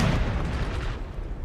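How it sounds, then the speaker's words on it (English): Cannon fire in Napoleon: Total War (NTW3 mod) rumbles as a loud, continuous low boom of artillery that fills the whole moment. "He's gonna get some friendly fire here from these cannons."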